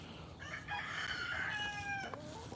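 A farm chicken gives a drawn-out clucking, squawking call of about two seconds, fairly close and clear over soft outdoor background noise.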